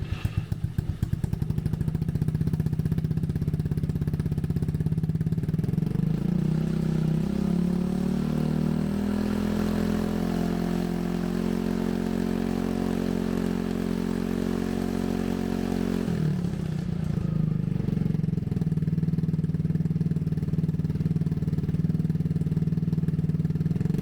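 A Honda Ruckus scooter engine is started and revs up, then holds a steady, fairly loud drone at higher speed, its pitch climbing before settling and briefly dropping near the end.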